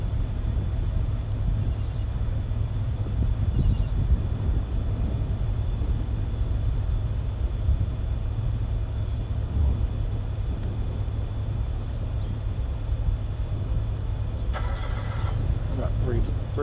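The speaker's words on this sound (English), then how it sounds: "I've got three or four taxiing now." At Charlotte Douglas Airport, aircraft taxi with a steady low jet-engine rumble and broadband hum that carries evenly from some distance. A brief brighter burst comes near the end.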